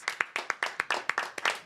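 Hands clapping in a lively, energetic room, a quick run of about a dozen sharp, close claps in an uneven rhythm, loud and with no talk over them.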